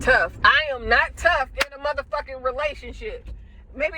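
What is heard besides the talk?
No distinct noise like a dog, phone or traffic.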